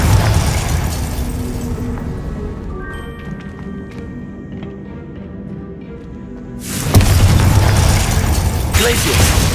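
A Confringo blasting spell goes off in Hogwarts Legacy. Loud booming bursts of impact noise open and close the moment, with quieter mechanical ringing and a voice in between.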